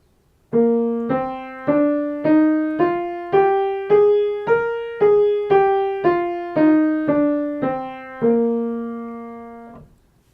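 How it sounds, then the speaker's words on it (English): A piano plays a Mixolydian mode scale one note at a time, rising then descending in an even rhythm, each tone decaying before the next; about sixteen notes. "The basic scale used for this chord is the Mixolydian mode."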